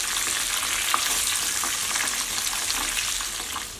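Pieces of KFC-style chicken frying in hot oil over a medium flame, a dense, continuous sizzle with fine crackling that holds steady throughout.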